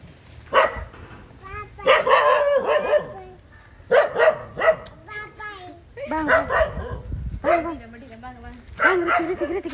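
A dog barks and yips in repeated bursts, some drawn out like whimpers, close and fairly loud, mixed with people talking.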